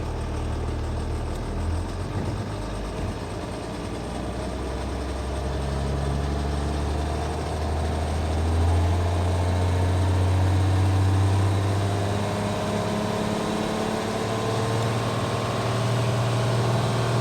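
A 2001 Bombardier BR-180 snow groomer's engine held at full throttle, maximum RPM, a steady loud low drone with a deep rumble that swells slightly toward the middle, no voices.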